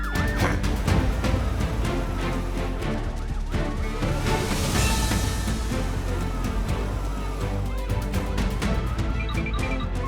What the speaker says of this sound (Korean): 이제 구급차 힐리가 출동할 시간이에요